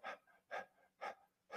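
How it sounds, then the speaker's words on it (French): Shallow, rapid mouth breathing in a guided breathing exercise: four quick, evenly spaced breaths, each a short airy puff, close and fairly quiet with nothing else around them. "Je peux faire une respiration superficielle et rapide par la bouche."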